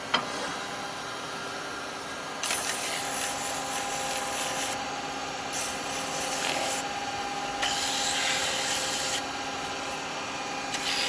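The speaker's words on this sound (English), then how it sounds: "So, a little bit of sanding." Steady rasping of sandpaper rubbing on a small turned wooden pot, in several bursts that swell and ease, close up with no talking.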